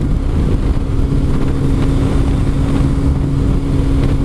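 Steady, loud drone of a Kawasaki ZZR600 motorcycle while riding near Penrith, a continuous engine hum with a strong low tone and rushing wind noise filling the whole stretch, no one speaking.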